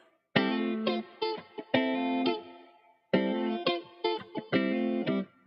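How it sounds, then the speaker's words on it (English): A tonal melodic phrase played twice through an effects processor, notes ringing out with a washy, reverberant tail between bursts. "I can add reverb to it."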